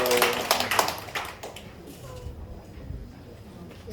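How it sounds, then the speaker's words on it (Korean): A church congregation claps for a family standing to be welcomed back. Scattered sharp claps ring out at the start, then thin out and fade within a couple of seconds into quieter room noise. "박수하겠습니다"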